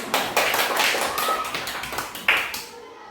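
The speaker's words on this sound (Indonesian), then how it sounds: "Oke, tepuk tangan." A primary school class claps hands together, a quick burst of brisk, fairly close applause with a few louder accents, fading out after about three seconds.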